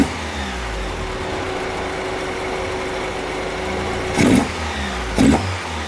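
A Volkswagen Golf Mk1 with a swapped-in 2.0L 8-valve engine on Dellorto DHLA carburettors runs steadily near idle, then gives two short throttle blips close together toward the end.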